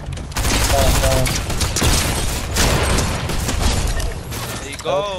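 Dense automatic gunfire in the Fortnite battle royale game, loud and continuous with rapid shots coming from two directions, and a voice talking over it toward the end.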